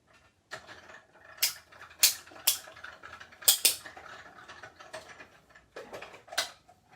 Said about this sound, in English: Now I can die cut this with my cute little die cutting machine.